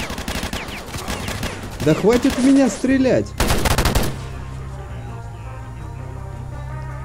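Automatic gunfire in the S.T.A.L.K.E.R. video game, loud bursts of rapid shots, with someone speaking over part of it before it gives way to quieter in-game ambience.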